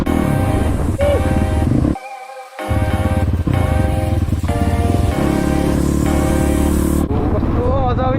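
Motorcycle engine running steadily and loud throughout while riding, with a brief drop near the middle, as someone talks over it.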